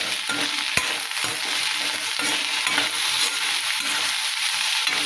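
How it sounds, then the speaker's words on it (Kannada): Okra frying in a little oil for chutney makes a dense, continuous sizzle with a single sharp click near the start and soft stirring underneath, with no talking. "ಈಗ ಇದಕ್ಕೆ ಸ್ವಲ್ಪ ಎಣ್ಣೆ ಹಾಕಿ ಹುರಿತೀವಿ ನೋಡ್ರಿ"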